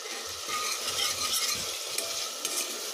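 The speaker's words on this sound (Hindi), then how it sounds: "फिर प्याज डालनी है, और प्याज को भी ज़्यादा नहीं पकाना है, हल्का सा ही ब्राउन" Onions are stirred while frying lightly brown in a pan, a close steady sizzle with scraping stir strokes and a soft utensil knock.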